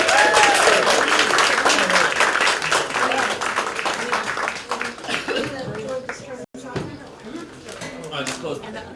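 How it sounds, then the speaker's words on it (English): A community history night audience applauds a panelist, dense clapping with cheers and voices mixed in, loud at first and thinning toward the end with people talking over it. "And a round of applause for Gretchen."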